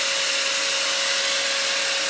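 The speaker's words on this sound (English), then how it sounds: "It just sounds like a loud and more high-pitched vacuum cleaner." A VEVOR foam snow making machine runs with a steady, loud, high-pitched whine like a vacuum cleaner, carrying a constant tone and broad hiss, close up and continuous with no talking.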